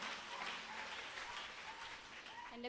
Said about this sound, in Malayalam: എന്ന് കൈയടിച്ച് കത്തോടെ നന്ദി പറയാം നമുക്ക്.